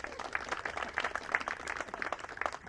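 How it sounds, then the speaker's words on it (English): An audience claps at a dedication ceremony for a new softball field. The applause is moderate and steady, with fairly even clapping that lasts the whole moment and has no voices over it. "You can clap for that."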